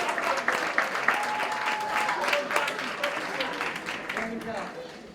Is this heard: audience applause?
yes